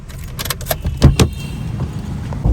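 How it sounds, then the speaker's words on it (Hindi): A car is locked on a street in Lahore: keys jangle, followed by a few crisp clicks and knocks close by, then a faint background hum. "तो भाई गाड़ी मैंने कर दी है लॉक।"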